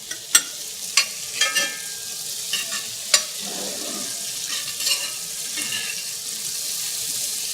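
Butter goes into a hot pan and sizzles with a steady frying hiss, punctuated by a few sharp spits and clicks near the start, heard close up with no talking.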